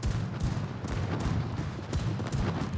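Ship guns firing in a naval combat video game, a dense run of booming shots and rumbling blasts following one another rapidly, loud and continuous throughout.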